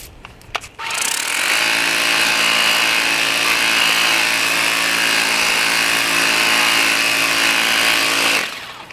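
Steady loud motor whine and hiss from a cordless pressure washer spraying foam shampoo during a car wash, running continuously for about eight seconds after a few clicks, close and with no talk.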